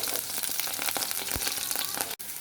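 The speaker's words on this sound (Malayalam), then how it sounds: "വെളിച്ചെണ്ണ ഏകദേശം ചൂടായി തുടങ്ങി വരുമ്പോൾ നമ്മൾ അരിഞ്ഞു വെച്ച വേപ്പില, ഉള്ളി, സബോള ഇടുന്നു." Curry leaves and onions frying in hot coconut oil for a fish curry, a steady close hiss and crackle of sizzling that runs without pause.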